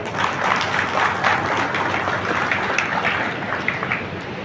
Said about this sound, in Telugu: గట్టిగా చప్పట్లు కొట్టి అన్నకు ఆహ్వానించాల్సిందిగా కోరుతా ఉన్నా